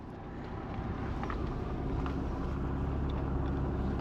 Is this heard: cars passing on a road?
yes